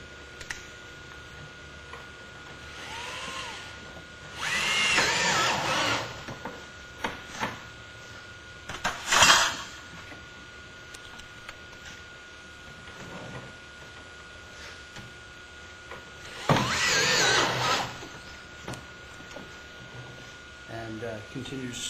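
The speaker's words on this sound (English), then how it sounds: "And then I will screw it with a screw gun, and screws approximately every" A screw gun drives screws into metal roof hip flashing, giving a few short whirring bursts spaced several seconds apart, each fairly close, with someone talking at times and quiet ticking between them.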